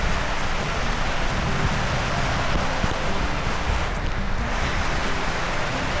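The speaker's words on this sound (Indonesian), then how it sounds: "jadi ini posisinya hujan lebat" Heavy rain pours in a steady, dense wash at a fishing spot on an afternoon, with wind mixed in, continuous and loud with no voices.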